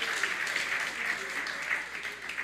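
A church congregation claps together in steady, dense applause that holds evenly throughout, with no clear talk over it.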